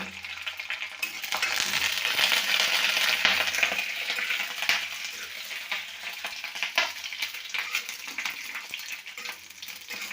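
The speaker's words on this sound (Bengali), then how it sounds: "সম্বরের জন্য কারি পাতা, একটা শুকনো লঙ্কা, গোটা সরষে ফোড়নে দিলাম।" Curry leaves, one dried red chilli and whole mustard seeds sputter in hot oil for sambar, a continuous close crackling sizzle with scattered pops lasting throughout.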